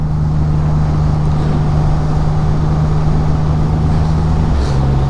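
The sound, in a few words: Triumph Rocket 3R motorcycle engine while riding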